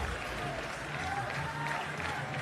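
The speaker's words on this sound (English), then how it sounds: "Rousing applause for Isuru as well as he makes his way into the pavilion by the Rajan fans" Crowd of fans at a school cricket match applauds steadily as a batsman walks back to the pavilion after his wicket, a dense, even wash of clapping at a distance.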